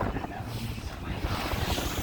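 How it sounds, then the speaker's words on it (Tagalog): Heavy wind buffets the phone microphone continuously aboard a ship leaving port, a loud low rumble with gusty swells throughout, and no voices are heard. "kung maingay ang cellphone ko kasi gawa ng napakalakas ng hangin"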